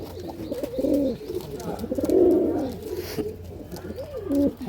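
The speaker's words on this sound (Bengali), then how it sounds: "দেখুন পায়রাগুলো সুপার কোয়ালিটি পায়রা আছে বন্ধুরা।" Malbai pigeons brought from Punjab coo repeatedly at close range, rolling throaty coos rising and falling in several overlapping bursts, with a soft chirp or two in between.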